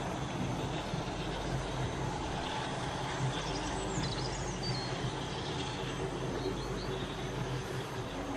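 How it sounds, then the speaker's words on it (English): A model railway King Arthur class locomotive, Excalibur, hauls a loaded troop train past in a continuous low rumble, steady and moderately close throughout. "King Arthur class Excalibur passes by with another loaded troop train."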